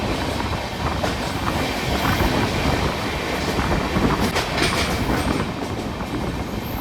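A passenger train runs on the Kolkata to Keonjhar route, heard from inside as a loud continuous rumble with rhythmic clickety-clack of wheels over rail joints and occasional faint squeals, no voices.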